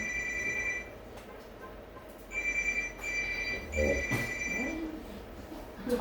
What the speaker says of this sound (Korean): 네, 전화 왔어요. 네, 전화 좀 꺼주세요.